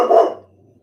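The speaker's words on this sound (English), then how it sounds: "There's a dog outside barking." A single sharp dog bark, close and loud, quickly dying away.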